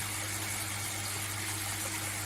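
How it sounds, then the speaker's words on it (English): Water spraying from a leaking koi pond system, a constant close hiss and gush mixed with a low steady pump hum, no voices. "Spraying water from your system into mine"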